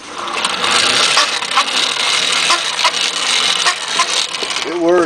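Old hand-cranked blower with chipped casing and dry gears turning steadily, giving a continuous grinding, rubbing whir with faint rhythmic clicks, loud and close throughout.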